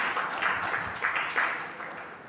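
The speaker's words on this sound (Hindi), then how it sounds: "इसी के लिए आप लोग जरूर ताली बजाकर अनुमोदना करें।" An audience at a Hindi-language Jain religious discourse claps in approval, a soft, fairly distant patter of applause with a few louder swells, lasting a couple of seconds.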